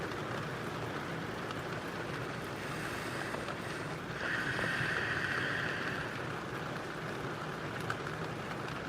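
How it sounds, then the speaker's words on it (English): Rain falling steadily outdoors, a continuous soft hiss with some wind noise, swelling slightly midway and lasting throughout without talk. "I guess it's just gonna rain the whole fucking day then."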